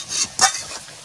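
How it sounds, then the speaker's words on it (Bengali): Kochu (taro) curry going into hot mustard oil, a brief sizzle with one sharper stirring scrape, close. "কচুর তরকারিটা তেলের পরে দিয়ে দেবো"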